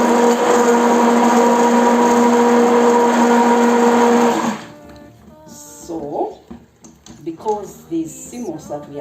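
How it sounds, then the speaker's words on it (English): A blender whirs loudly and steadily as it mixes sea moss soap, then cuts off after about four seconds, followed by a few quiet knocks and handling sounds. "So you blend and mix"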